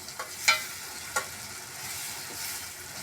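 A paneer cashew curry masala fries in a pan with a soft, steady sizzle, broken by a few light clinks of stirring, heard alone with no talking.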